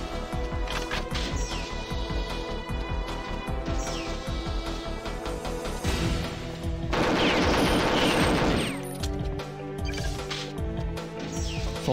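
Gun turrets in the video game Perfect Dark fire loud, rapid continuous volleys that stack over dense game music and effects, growing heavier for a stretch midway through.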